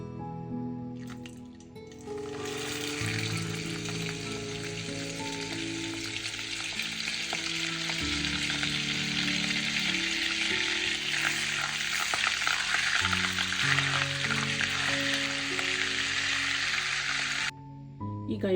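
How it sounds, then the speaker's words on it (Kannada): A small piece of butter added to hot oil in a pan, sizzling and frying loudly and steadily with stirring noises, close up, for rajma masala. "ಈಗ ನಾನು ಒಂದು ಪಾತ್ರೆಯಲ್ಲಿ ಎಣ್ಣೆಯನ್ನು ಬಿಸಿ ಮಾಡಲಿಕ್ಕೆ ಇಟ್ಟಿದ್ದೇನೆ"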